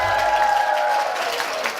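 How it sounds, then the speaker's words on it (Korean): Warm applause from a studio audience greeting the hosts of a healing talk show, brief dense clapping with some crowd noise and a sustained tone beneath, no talk. "이렇게 뜨겁게 박수를 맞아주시니까"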